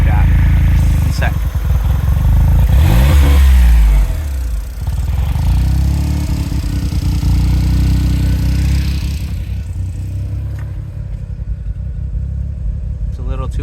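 A Suzuki Cara Autozam AZ-1 engine idles high and loud up close with a steady raspy drone, briefly surging near the start before settling into an even idle that fades somewhat toward the end.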